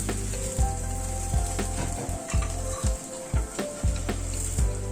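Breakfast patties pressed down and fried until browned in an oiled pan, with a steady sizzle broken by soft thumps of repeated pressing at an irregular beat, close and moderately loud with no talking.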